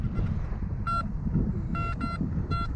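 An Anfibio metal detector searching a field gives several short, bright beeping signal tones, a single one and then a quick pair and one more, over a steady outdoor background of wind and ground noise.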